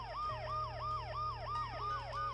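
Ambulance siren in the video game Dead Synchronicity, a loud continuous wail rising and falling in rapid repeating sweeps over a low steady hum.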